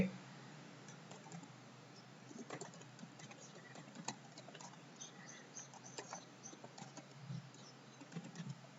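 Data being typed on a computer keyboard: soft, irregular key clicks patter faintly and continuously at close range, with a few slightly louder taps.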